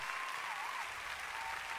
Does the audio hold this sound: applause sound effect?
yes